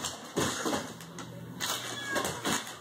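A cat lets out several drawn-out, irritated meows close by, rising and falling in uneven bursts with short gaps between them.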